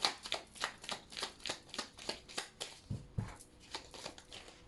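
Cards riffle and flutter out of a deck during shuffling, a rapid series of crisp, papery bursts in quick rhythm, close and fairly quiet, with a couple of soft thumps midway.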